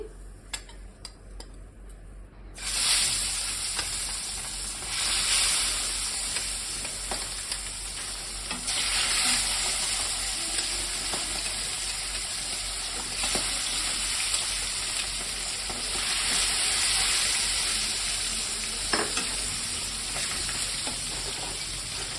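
Magur catfish fries in hot oil seasoned with turmeric, a steady loud sizzle that starts abruptly after a quiet moment and continues with crackling spatters and occasional clinks of utensils, with no voices.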